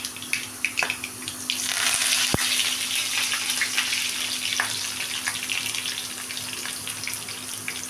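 Curry leaves hit hot oil in a village-style chicken curry pan, giving a sudden loud crackle and sharp pop, then a steady close sizzle that keeps spitting for several seconds.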